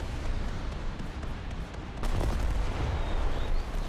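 Tank cannon fire striking a warship in a naval combat video game, heavy booming blasts over a dense rumbling battle roar that swells louder halfway through, with no talk.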